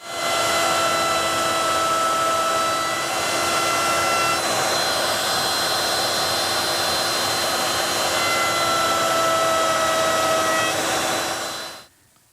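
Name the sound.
router with 1/2-inch radius roundover bit shaping bull nose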